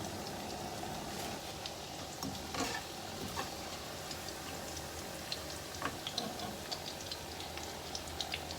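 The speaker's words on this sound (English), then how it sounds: "Now we will be frying the chicken here." Steady sizzling of chicken frying in hot oil, with scattered small pops and crackles throughout, fairly quiet and close.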